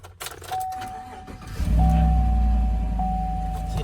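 A Chevrolet Silverado pickup truck cranks briefly and its engine catches, then settles into a loud, steady idle close by, with a faint chime tone running through it.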